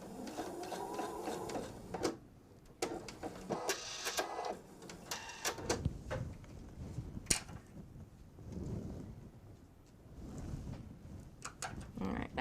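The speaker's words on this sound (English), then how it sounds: "we're going to stitch all the way off the fabric now" A sewing machine stitching fabric for coasters, running in short bursts with a rapid mechanical whir and pauses between runs, close and fairly quiet, with some handling clicks and no talking.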